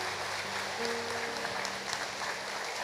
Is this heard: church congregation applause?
yes